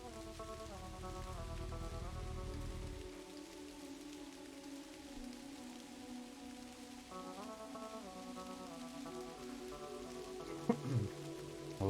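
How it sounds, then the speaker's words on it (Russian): Steady rain falls on a graveyard in the video game Kathy Rain, a faint continuous hiss beneath a low sustained musical drone, with a brief crackle near the end. "Ай, дождь и кладбище."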